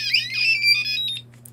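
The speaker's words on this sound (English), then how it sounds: "that's just coming out the little buzzer that's on top" A small electronic buzzer on a robot face with an 8x8 matrix display chirps a quick, warbling R2-D2-like tune of rising and falling beeps, then goes quiet.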